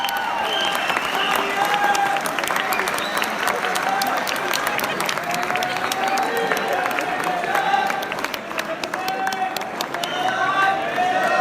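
Sustained, loud applause from a large audience for poet Ali Zaryoun at a poetry event, dense steady clapping with some crowd murmur running through the whole stretch.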